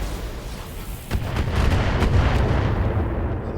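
PPC and missile fire in the video game BattleTech, a dense, rumbling barrage of booming blasts and crackling impacts that builds and sustains at high volume, with no talking.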